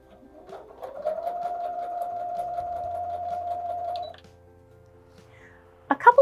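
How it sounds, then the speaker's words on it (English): A Brother PS300T sewing machine stitches forward, its steady motor whir rising as it starts, holding for about three seconds, then stopping, followed by a couple of brief clicks near the end. "it's as easy as pressing the button to start sewing in the forward motion"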